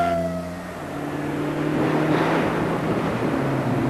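A rally course car drives through a forest special stage on a wet winter rally, its engine note climbing and passing with steady road roar, loud and fairly close, no talking.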